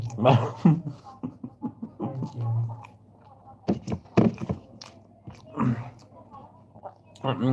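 Fried cauliflower being eaten at a dinner table, with close crunchy bites and chewing scattered between bursts of conversation.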